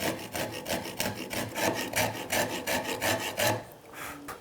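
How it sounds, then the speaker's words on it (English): A coarse microplane rasps across the grain of a wooden bass guitar body in about a dozen rhythmic scraping strokes, each a rough, bright rasp close up, ending with a quieter pause. "Let's try the microplane first. This is one of the coarser ones"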